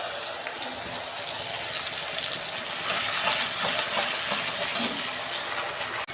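Onion spice paste of cumin and coriander hitting a pan of fried onions, a steady bright sizzle that swells midway and continues alone.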